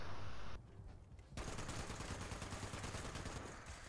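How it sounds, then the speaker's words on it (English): An automatic laser gun in Fallout 76 fires a rapid, sustained burst of energy shots that starts after a short pause and continues loud and dense to the end. "Oh, you got an automatic laser."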